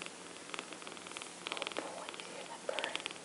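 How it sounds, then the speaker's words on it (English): A cat purrs steadily and softly close by, a low rhythmic rumble that keeps going through the whole stretch with no talking over it. "You hear that purr machine."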